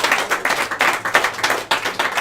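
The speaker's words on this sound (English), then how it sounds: "Give him a nice big round of applause." A pub audience at a traditional Irish music session in Graignamanagh, County Kilkenny, claps in a dense, continuous burst of applause at close range, with no voices over it.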